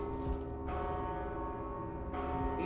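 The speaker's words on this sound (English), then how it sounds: "He's ringing the bell now." A large bell rings out in the video game Mortal Shell, its sustained metallic tone droning with a fresh strike near the start and another toward the end, steady and moderately loud, with no speech.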